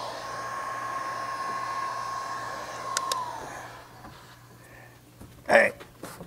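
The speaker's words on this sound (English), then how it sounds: "I can see that rubber change as that heat gun hits it." A heat gun blowing hot air onto a rubber kayak deck pad, a steady loud whirring hiss for about three seconds before it cuts off, followed by quieter room sounds and a brief clatter near the end.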